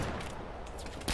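Gunfire in the video game Battlefield 3: a dense, continuous rattle of overlapping shots, loud and close throughout, with a sharper burst at the end.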